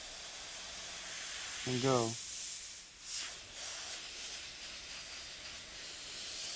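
An airbrush gun sprays paint onto a T-shirt with a steady, airy hiss running throughout, briefly swelling and dipping, while someone talks over it.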